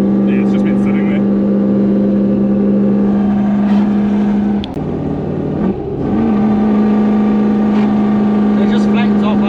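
A Toyota 1UZ V8 in a 4Runner, left standing four months on old fuel, drones loudly and steadily, then dips briefly and bogs flat instead of climbing, while people talk over it.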